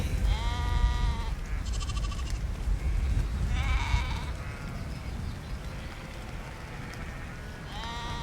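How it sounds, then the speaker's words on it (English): A ewe with her lambs in a field bleats repeatedly, loud and close, the calls coming in several distinct bursts over outdoor ambience. "that's one of my ewes with her lambs"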